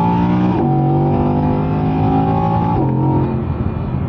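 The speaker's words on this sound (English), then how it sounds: "one thing I do like about the convertible is you can open this back window and let more noise in" A 2022 Audi R8 Spyder convertible engine heard with the rear window open, loud close revving that climbs through gears with two sharp shift breaks, no voices.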